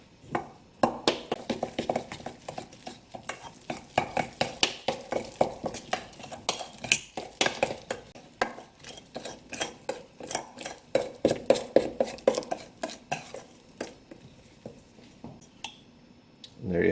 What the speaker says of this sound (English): we'll stir it up.